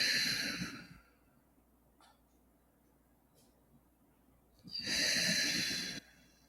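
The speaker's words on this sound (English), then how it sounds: "And then breathing in through your nose and out through your nose." Two slow, airy breaths drawn in through the nose during a guided meditation, each lasting about a second, close and soft, separated by a long quiet pause with no speech.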